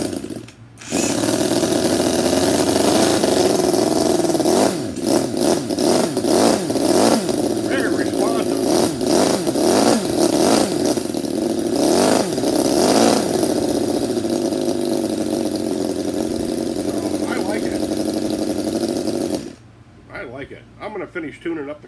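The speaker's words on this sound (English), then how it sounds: "it's pretty stable running on nitro with just glow plugs." Cison FL4-175 model four-stroke engine running on nitro with glow plugs, a steady buzzing drone held for about twenty seconds with small speed wavers, close and loud, then cutting off abruptly, with someone talking over it.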